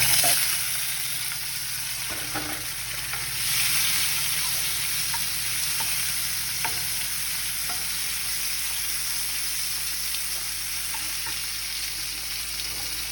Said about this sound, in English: cherry tomatoes, olive oil in the pan. Put your tomatoes.